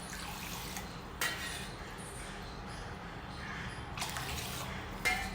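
Water pours steadily into a pot of dal and rice for khichdi, a continuous watery rush with a couple of brief knocks against the vessel.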